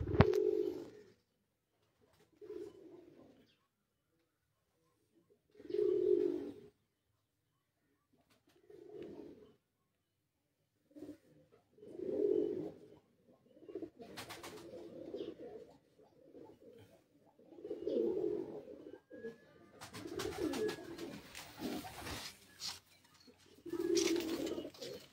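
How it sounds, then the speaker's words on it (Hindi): Pigeons on a rooftop coo in repeated low, throaty bursts, several calls spaced a few seconds apart, fairly close with quiet gaps between them. "तो वो कबूतर है यहाँ पर।"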